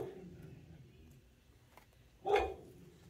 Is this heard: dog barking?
yes